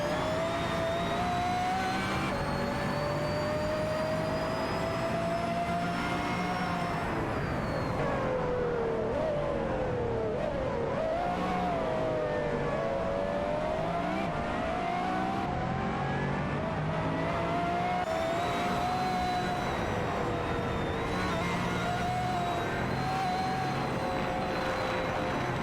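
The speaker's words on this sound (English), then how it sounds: "Cedric in the Porsche 918 Spider is currently holding on to Pen, but Naibe and Suzanne Greenberg in the Pagani Zonda R are closely tailing" Engines of race cars, among them a Porsche 918 Spider and a Pagani Zonda R, accelerate continuously in a racing video game, with a steady whining drone whose pitch rises and falls through gear changes, loud and unbroken.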